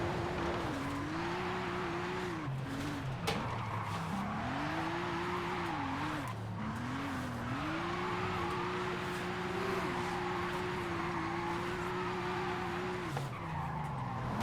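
A car in the Forza Horizon racing game brakes too late and skids, its tyres squealing in a long wavering screech over a steady engine drone, loud and continuous with no talk.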